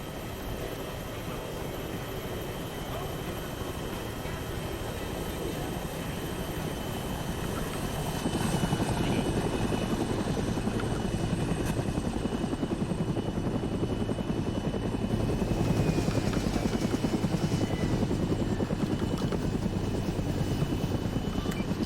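A helicopter setting down in a military simulation game, a continuous rotor thump and engine whine that swells louder partway through and holds, with no talking.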